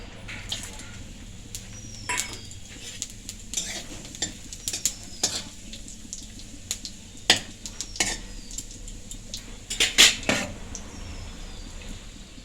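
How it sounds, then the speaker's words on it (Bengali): Whole spices (bay leaves, dried red chillies, cloves, cardamom, cinnamon and cumin) sizzle in mustard oil in a wok, under a soft steady hiss broken by sharp clinks and scrapes of a spatula against the metal. "কড়াইয়ে সরষের তেল দিয়ে দিয়েছি এরপর আমি এখানে দিয়ে দিচ্ছি তেজপাতা শুকনো লঙ্কা লং এলাচ দারচিনি আর গোটা জিরে"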